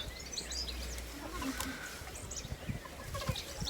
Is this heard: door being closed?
no